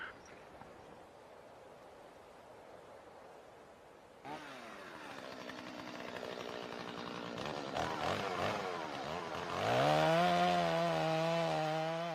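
Chainsaws cut wood in a snowy forest, starting faint and distant, then growing louder with rising and falling whines, the revving engine climbing to a strong sustained tone near the end.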